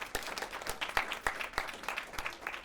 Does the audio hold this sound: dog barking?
no